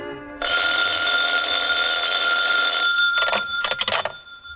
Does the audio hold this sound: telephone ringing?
yes